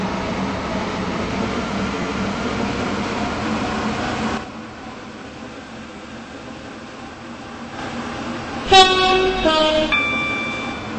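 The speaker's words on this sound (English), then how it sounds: "This train is now approaching St." A train rumbles steadily in the Stepford County railway video game, approaching St. Helens Bridge station, then quietens, followed by a short burst of horn or announcement chime tones near the end; no speech in the clip.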